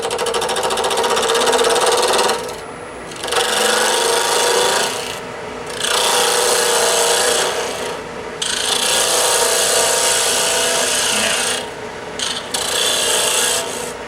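A wood lathe turns an eight-sided workpiece to knock the corners off, giving a steady loud rasping, rubbing cut in long bursts separated by short pauses.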